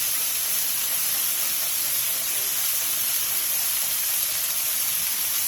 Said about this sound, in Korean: 계란이 익을 때까지 부추와 계란을 함께 볶아주세요.